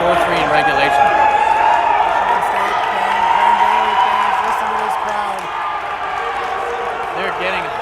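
A hyped crowd of fans, including Michigan State and Grand Valley supporters, roars and cheers steadily through a national title game, a dense wall of voices with shouts rising above it, and an announcer talking over the noise.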